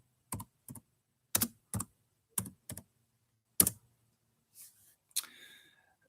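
Sparse keystrokes on a computer keyboard, about eight separate clicks in an uneven rhythm, sound close and crisp against a quiet room.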